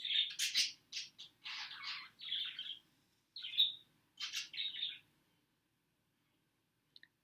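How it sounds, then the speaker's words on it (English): Birds sing and chirp in a series of bright, high twittering phrases with short pauses between, clear and close, then falling silent near the end. "I don't know if those birds are just singing, or if they want more food"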